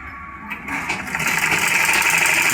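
A sewing machine stitches the back pocket of a pair of trousers, its motor whirring up to a steady, fast running hum after a brief softer start, close by with no talk.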